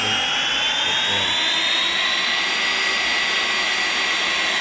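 In the Real Flight Simulator game, an airplane engine drones loud and continuous as the plane starts moving, with a high turbine whine that rises slowly throughout, no voices over it.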